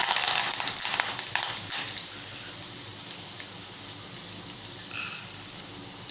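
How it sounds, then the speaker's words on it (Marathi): Garlic cloves and curry leaves sizzling in hot oil for a tempering in a Malvani fish curry, a steady close crackle with a few brighter spatters and no voices. "आपल्याला छान फोडणी द्यायची आहे।"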